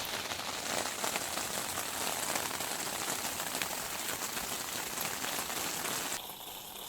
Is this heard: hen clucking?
no